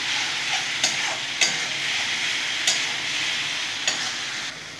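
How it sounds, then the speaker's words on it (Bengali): Kashmiri chilli masala sautéing in a pan for cholar ghugni, a loud steady sizzle with regular spoon scrapes every second or so. "আমি কাশ্মীরি মির্চি দিয়ে দেবো কালারটা হওয়ার জন্য বন্ধুরা। সুন্দর করে কষে নেব।"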